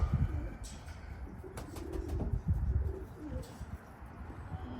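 Racing pigeons coo in a loft, a steady low murmur of overlapping coos with occasional wing flutters, close by and moderately loud throughout, no talking.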